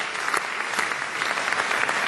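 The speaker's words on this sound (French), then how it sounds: "aux côtés d'Hervé Morin, que je tiens encore à applaudir, à remercier." Audience applause fills a hall at a political party congress in Nîmes, steady and dense for two seconds with no voices over it.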